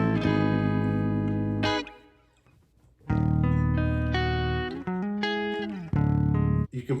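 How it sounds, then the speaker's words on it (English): A bass guitar with a gritty, distorted tone plays held notes and short phrases, leaving one brief gap of near silence before resuming, heard alone at moderate level. "You can probably hear that the bass sounds kind of distorted."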